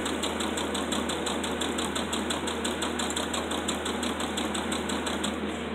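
A sewing machine stitches ribbon onto fabric bunting, its needle running in a fast, even mechanical patter with a steady motor hum. The sound stays close and continuous with no talk.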